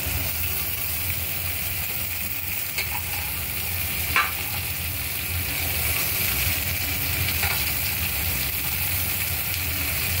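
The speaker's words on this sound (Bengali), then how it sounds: "এবার আমি কেটে রাখা ক্যাপসিকামগুলো এর মধ্যে দিয়ে দেবো।" Chopped capsicum fries in a hot pan with a loud, continuous sizzle heard up close, with a few faint scrapes and clinks of stirring scattered through.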